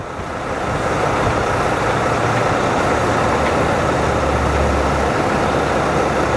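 Two Century 1075 recovery trucks run their winches together, a loud continuous mechanical drone with engine hum that rises in the first second and holds steady, close by.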